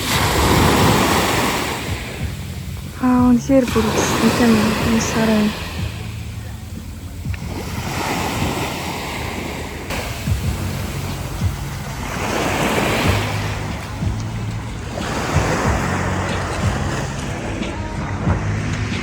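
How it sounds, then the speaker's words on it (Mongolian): Sea waves surging onto a beach at night in Hainan, broad washes of surf that rise and recede every few seconds, with wind buffeting the microphone and someone speaking briefly over the noise. "За далайн ирэг дээр байна."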